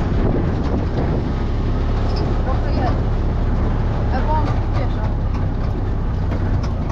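A Fiat 126p cabrio's small engine idles in a steady, close, rough drone, under continuous talking.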